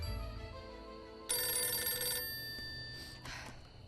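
A telephone bell rings in a short burst followed by two fainter trailing rings, fairly close over a low background hum, with no voices.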